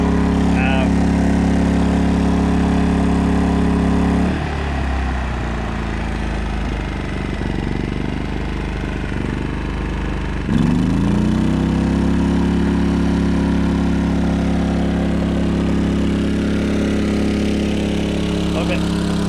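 A portable generator mounted on a 1999 Ford F350 hotshot truck runs through its break-in period, a steady low engine drone that dips quieter midway before rising again, with a person talking over it.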